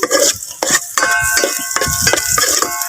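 Garlic stirred in a hot pan, with a utensil scraping and clacking in quick irregular strokes over a steady sizzle of frying, close and fairly loud.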